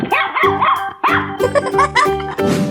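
A cartoon dog in a 3D animal slide video game barks loudly and close, giving a quick run of about half a dozen yelping barks in steady succession.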